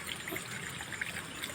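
Water trickles steadily on its own from a hand pump, a soft continuous splashing flow with no voices over it.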